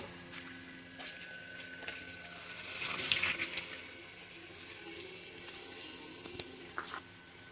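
Water is poured and strained through a fine white net to collect hatched artemia, a soft, fairly faint trickling and splashing that rises briefly in the middle, with no speech.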